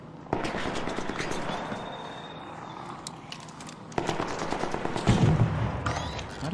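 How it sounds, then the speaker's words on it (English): Rapid gunfire rattles in Arc Raiders, with clustered bursts of sharp shots that drop off briefly before a heavier, louder volley kicks back in near the end. "That gun sounds so good."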